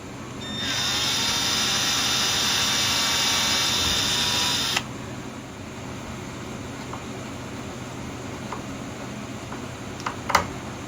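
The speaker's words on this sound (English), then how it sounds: "when I drill into it, I don't want it spinning." A power drill drilling into wood whines steadily at high speed for about four seconds, then cuts off, leaving a quiet room with a faint click near the end.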